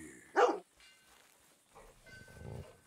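A dog in the Red Dead Redemption II video game gives one short, sharp bark, followed by faint whimpering and quiet game ambience.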